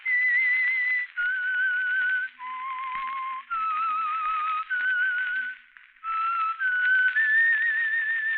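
A lone person whistles a slow, wavering melody, the signature tune of the 1951 radio drama The Whistler, in several sustained phrases with short pauses, clear and close against a quiet background.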